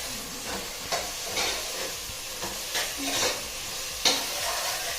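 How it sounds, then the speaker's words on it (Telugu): Onions with a pinch of salt fry in hot oil, a steady close sizzle broken by several scraping stirs of a spoon, with no talking. "కొంచెం సాల్ట్ వేసుకుంటే ఆనియన్స్ ఫాస్ట్గా వేగుతాయి"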